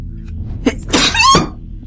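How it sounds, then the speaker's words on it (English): A man sneezes close up, a sharp intake of breath and then a loud, explosive burst with a voiced tail, heard alone over faint background. "Hang on, I'm gonna sneeze."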